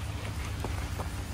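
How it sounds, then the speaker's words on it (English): Steady rain patters down outdoors during an early morning run, a soft continuous hiss with a few louder drops, heard alone without talk. "Oh, it's raining, man."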